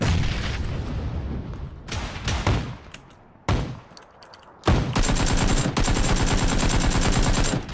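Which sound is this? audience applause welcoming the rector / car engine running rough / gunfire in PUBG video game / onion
gunfire in PUBG video game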